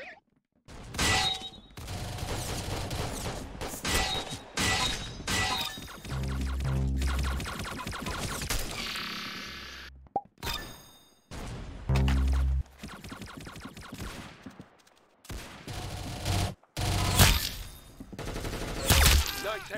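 Gunfire in the Roblox shooter Arsenal, dense clusters of rapid game shots and bursts that repeat in quick runs with short silent breaks, loud and up front, with no voices.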